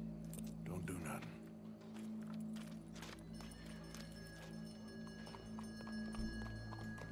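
Horse hooves clip-clopping in the Red Dead Redemption 2 video game, a faint irregular patter of steps under a steady background hum, with quiet talk mixed in.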